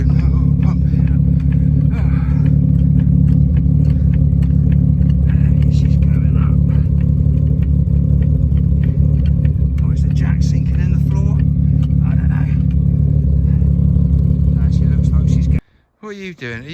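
A BMW E36 drift car engine runs with a loud, steady, close rumble for about fifteen seconds, then cuts off abruptly near the end.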